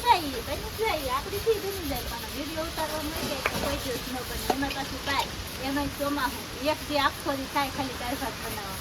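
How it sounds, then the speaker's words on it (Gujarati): Heavy, steady rain and strong gusting wind roar as a broad wash of noise through an outdoor Kathiyawadi home-cooking session of dal and rice, with people talking over it almost continuously. "કન્ટિન્યુ વરસાદ બહાટીને ધબધબાટી શરૂ થઈ ગયેલો છે અને પવન નેક્સ્ટ લેવલનું ઉડે છે"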